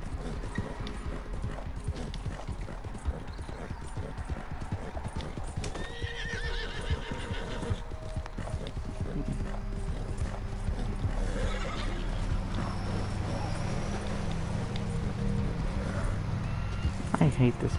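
Rapid rhythmic hoofbeats of a galloping horse in a video game with occasional whinnies, a steady clip-clop that grows heavier over time.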